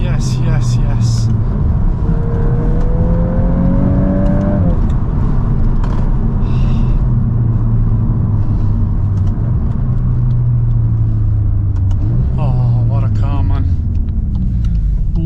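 A VW MK8 Golf R driving on wet roads, steady loud engine and road rumble from inside the cabin with a rising gear pull, while voices talk over it.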